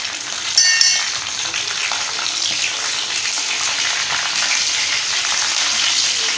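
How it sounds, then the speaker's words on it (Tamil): Dried red chillies, tamarind and garlic frying in hot oil for a spicy tomato chutney make a loud, continuous close sizzle, with a brief utensil clatter of stirring near the start. "இதை வந்து எண்ணெயிலே நல்லா வணக்கி எடுத்துக்கலாம்"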